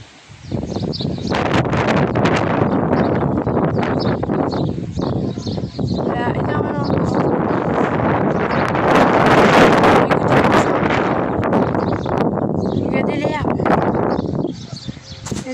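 Strong, gusty wind roars and buffets a microphone outdoors in a continuous loud rush. Brief voices are faintly audible under it.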